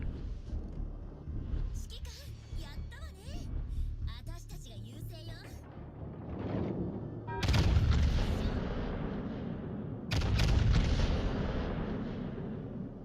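Warship main guns boom in a World of Warships Legends naval battle, loud heavy blasts around the middle and near the end over a rumbling battle bed, with a player talking across much of it.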